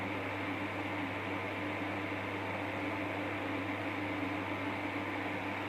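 A homemade electric stove built from an old rice cooker runs with a loud, steady whooshing hum and buzz that holds unchanged throughout, with no one talking.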